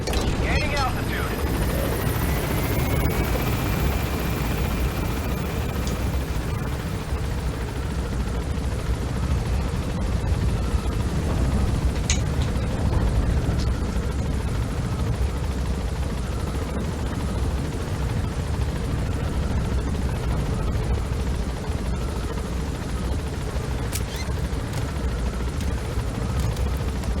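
In the Metal Gear Solid 5: The Phantom Pain video game, a helicopter climbs with a constant loud rotor roar and whine filling the whole stretch, punctuated by occasional distant booms, with voices speaking over it.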